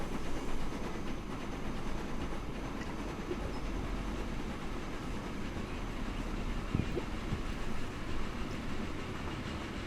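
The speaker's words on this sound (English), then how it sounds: "A nice artistic look at this train as she sets off on her way towards Axbridge Farms" A train sets off in the video game Transport Fever 2, with a steady low rumble and faint clickety-clack of rail wagons rolling along without a pause.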